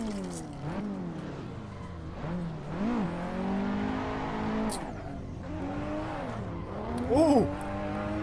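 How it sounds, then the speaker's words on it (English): Drifting car in the Assetto Corsa racing game on a drift playground map, engine droning and revving with rising and falling pitch sweeps, a brief squeal-like burst near the end, steady and fairly loud throughout. "Just drifting. A little bit of drift playground."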